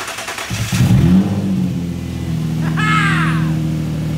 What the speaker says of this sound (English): My VQ starts and runs great.